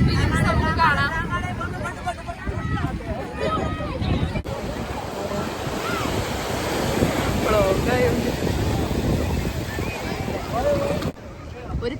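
Sea waves surging and splashing against a speedboat off Chavakkad Beach, Kerala, a loud continuous wash of water and wind rumble with a sharp splash midway, while people talk and call out throughout.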